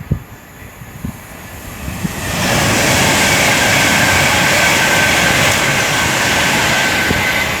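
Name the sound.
Pendolino train, London to Manchester, passing Tamworth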